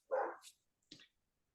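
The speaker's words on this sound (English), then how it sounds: "no one even noticed she was barking" A dog barks twice in short sharp bursts, with a brief gap between them, fairly close and alone.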